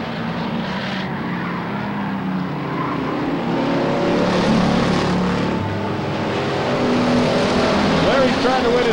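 Race cars roar past on lap 7 at Silver State Raceway in 1994, engine noise swelling to a peak midway and then holding as a dense, continuous drone.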